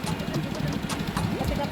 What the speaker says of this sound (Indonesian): pada testing kali ini kita menggunakan mesin penggerak bensin ya